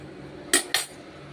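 Two sharp metallic clinks of a utensil against a bowl while mixing spicy boondi snack, spaced a quarter second apart over a quiet background.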